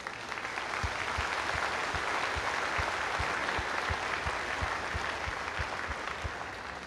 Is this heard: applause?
yes